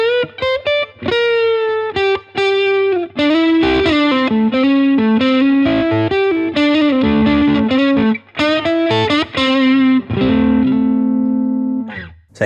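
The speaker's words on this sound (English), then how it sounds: "If you like that real earthy bluesy tone as well, the neck position single coil works great with this amp." Electric guitar on its neck-position single-coil pickup through a Blackstar Studio 10 6L6 amp, with a bluesy melodic lead of bent notes and runs, loud and close, played alone without talk.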